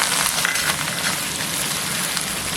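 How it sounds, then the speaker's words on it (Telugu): Urad dal, mustard seeds, cumin and curry leaves frying in hot oil for a tempering, giving a steady, loud, dense sizzle and crackle throughout with no talking. "ఈ 3 ఫ్రై అయిన తర్వాత కరివేపాకు కూడా వేసుకుని ఫ్రై చేసుకోవాలి."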